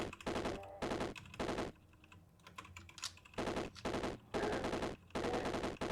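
Rapid gunfire in the video game Caves of Qud, with lead slugs in play. Loud, clattering bursts of quick shots are separated by short quiet gaps.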